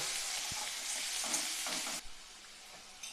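Onions sizzle in hot oil in a pan as they are stirred, a steady bright frying hiss close by with scraping bursts from the spoon, quieter after a moment, no voices.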